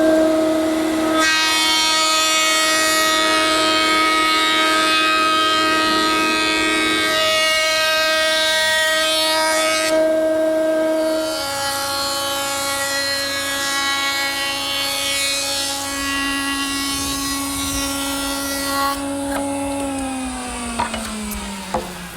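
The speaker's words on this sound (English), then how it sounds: "I've been taking the boards and running them through the joiner." Boards being run through a jointer in a woodshop produce a long, loud, steady machine whine with tonal shifts as each board passes.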